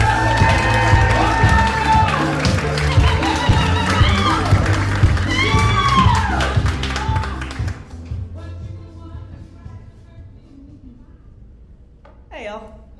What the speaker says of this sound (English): Please clap for Miss Shelby Fanning.